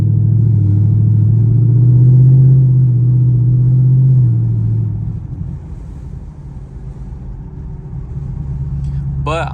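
Chevrolet Camaro SS V8 rumbling loudly up close on a drive, a steady deep drone for several seconds that then eases into a lower, rougher idle-like burble.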